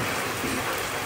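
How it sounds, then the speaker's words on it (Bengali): Rain beginning to fall outside a restaurant on Mahatma Gandhi Road in north Kolkata, a steady, even hiss of drops filling the short moment on its own with no voices. "বাইরে পুরো বৃষ্টি শুরু।"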